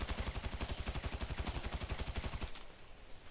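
Rapid automatic gunfire in the GTA 5 video game, a fast even burst of sharp shots lasting about two seconds and then cutting off, fairly close and alone.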